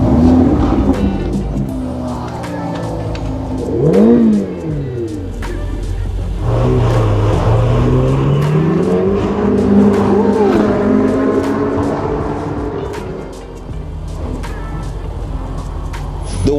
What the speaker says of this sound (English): I'm riding in a Ferrari today in London.